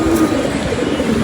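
Close, continuous low cooing from pet pigeons kept at home, a soft rolling drone with no voices present.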